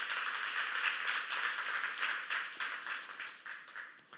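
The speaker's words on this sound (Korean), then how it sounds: "믿는 사람만 다시 한번 박수며 하나님께 영광 돌리시기 바랍니다" A church youth congregation claps together in worship after a sermon, a dense steady patter of many hands that thins slightly toward the end, with no talk over it.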